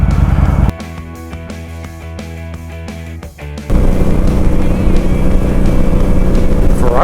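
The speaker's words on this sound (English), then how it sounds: "Ferrari." A Ferrari engine note swells and passes on a downtown Salt Lake street, heard from a moving ride. A tonal, rising engine drone fades into loud wind and road rush.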